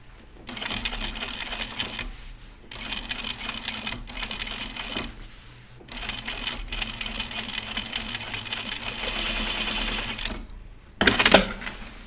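A sewing machine stitches thick jeans fabric for a jeans prototype, running in steady whirring bursts separated by short pauses, close and fairly loud, ending with a brief sharp clattering rattle.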